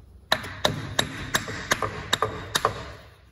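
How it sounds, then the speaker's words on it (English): A copper hammer strikes a CV joint on a car axle seven times in an uneven rhythm: sharp, ringing metallic taps, close and distinct, with brief pauses between them. "Obviously, copper hammer for the win on this job."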